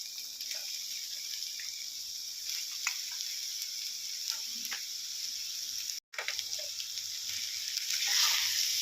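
Moth bean sprouts hit a hot pan seasoned with salt and garam masala, producing a steady, fairly quiet sizzle with occasional light stirring taps and a brief dropout partway through.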